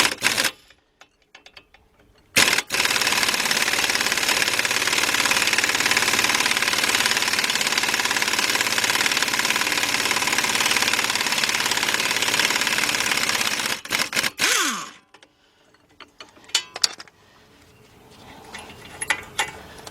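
Impact wrench or power tool tightening bolts on the front right strut assembly of a 2003 Lincoln Navigator, a loud continuous buzzing rattle running about twelve seconds after a brief burst, then stopping to quieter clanks and handling noises.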